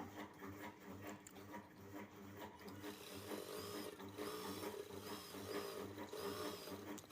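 A sewing machine runs steadily, stitching a rug made from old clothes, with a low rapid mechanical whirr and faint clicking, softly recorded and continuing without pause.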